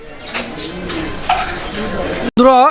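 Close fancy pigeons cooing in low, throaty bursts, briefly cut off before a louder coo.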